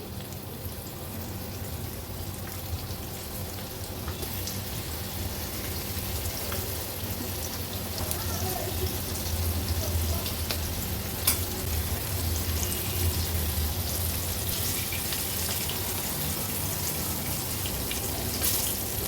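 Steady, dense sizzling of sole fish pieces frying in hot oil in a pan over a medium flame, continuous and close, with no talking throughout.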